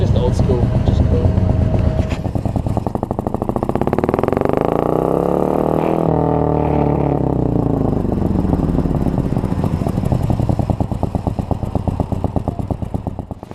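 A Morgan sports car with a Mazda gearbox is driven at speed. Its engine drones loud and steady, its pitch swelling and sagging as it accelerates and eases off, while a person talks over it throughout.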